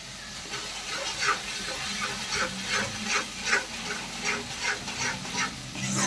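Onion masala paste is stirred in a pan, with regular scraping strokes of a spoon roughly every half second over a soft sizzle and hiss, close and fairly quiet.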